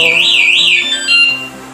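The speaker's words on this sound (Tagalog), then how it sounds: "Pag hinampas mo ulit, mag-alarm na siya." A ROCKBROS bicycle anti-theft alarm shrieks loudly and close, a warbling electronic siren sweeping up and down before shifting to a steadier tone near the end.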